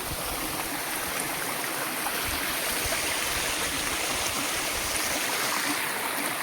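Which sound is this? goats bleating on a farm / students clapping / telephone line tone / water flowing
water flowing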